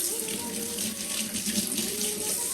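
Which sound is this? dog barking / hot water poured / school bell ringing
hot water poured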